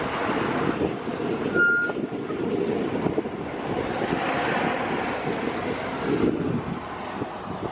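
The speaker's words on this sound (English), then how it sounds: "Alright, transport truck is here." A transport truck arrives to haul away a 1936 Ford roadster, its reversing beeps sounding once clearly under steady wind and rumbling engine noise outdoors.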